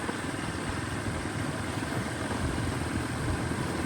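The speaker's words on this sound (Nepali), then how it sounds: "मेरो बाइक अनि म यो तरिकाले जाँदैछु।" A motorcycle engine runs steadily on a rainy ride, a continuous broadband rumble and rush that holds at an even level throughout with no voices.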